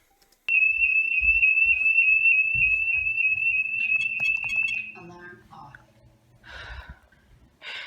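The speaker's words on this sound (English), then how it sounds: "Base station going off." A SimpliSafe security system base station alarm sounds as one loud, piercing high-pitched tone that holds steady for about four and a half seconds and then cuts off, followed by brief rustling, breathy sounds and a short clatter.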